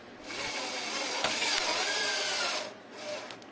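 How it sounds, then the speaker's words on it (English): A power driver whirs steadily for a couple of seconds as screws drive a bracket into the bottom rail of a Trex Transcend deck railing, then it slows and stops, close and fairly loud. "Using screws provided, screw down the bracket into the bottom rail."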